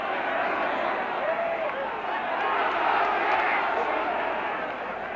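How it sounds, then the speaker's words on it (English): A large football crowd at Ninian Park for Wales v England roars in a sustained, swelling cheer, a dense wall of voices from the terraces rising and holding across the whole stretch. "listen to the cheer at the first victory in the air for Wales"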